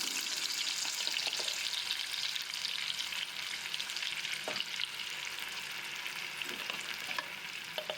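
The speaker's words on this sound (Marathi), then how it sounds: "आणि ही प्युरी छान फ्राय करून घ्या" Onion and garlic puree fries in oil in a kadhai for a matar paneer dish, giving a steady, dense sizzle throughout with a few soft stirring clicks.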